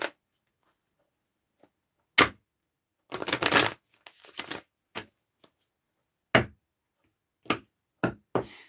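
Tarot cards shuffled by hand in short riffling bursts, one longer burst near the start followed by several quick snaps and flutters, close and fairly quiet with silence between.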